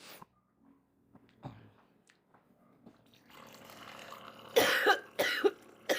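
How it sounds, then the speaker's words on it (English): Quiet shuffling and small noises give way to a loud burst of several rough coughs near the end, close by. "I had a coughing fit."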